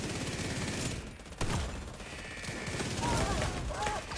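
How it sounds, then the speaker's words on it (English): Dense bursts of rapid video-game gunfire in a shooter match, loud and close, with sustained automatic volleys and a sharp crack partway through, mixed with game effects. "That's some bad shooting on my part"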